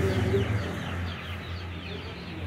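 Chickens cluck at a poultry market, a low muffled murmur of fowl calls mixed with background voices and market bustle, steady and moderately loud throughout.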